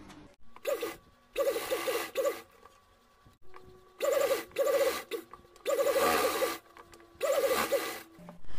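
A sewing machine stitching around the fabric lining of a small dress for a framed deity picture runs in short repeated bursts of rapid mechanical whirring, with brief quiet gaps between runs, moderately close.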